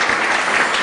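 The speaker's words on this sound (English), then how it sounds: "Yeah, you can clap for yourself." An auditorium audience at a Chicago Business Hall of Fame event claps loudly and steadily, a dense wash of applause filling the whole moment.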